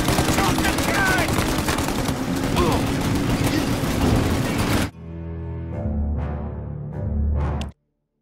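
Sustained rapid machine gun fire in the Mafia Definitive Edition video game, loud and dense for several seconds, then cutting to quieter rumbling and mechanical sounds before falling silent.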